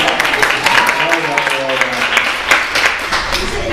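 An audience applauds a team at a MonologueSlam event in Birmingham, steady hand clapping filling the room with a host's voice talking over it.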